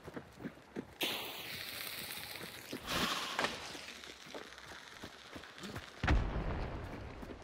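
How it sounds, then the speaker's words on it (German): Gunfire in the video game Hunt: Showdown, a few sharp distant shots and bursts scattered over a rumbling ambient background, with one louder close blast near the end. "Aber sie schießen."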